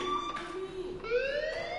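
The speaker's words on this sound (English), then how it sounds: "Hey, do you hear that fire alarm? That means you should be outside." Fire alarm in a PS4 video game, a steady tonal electronic wail that holds, then shifts pitch midway, moderately loud and continuous with no talk over it.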